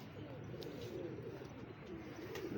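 Pigeons kept at a home coo softly in a quiet space, a few low murmuring calls rising and falling with faint chirps over a hushed background.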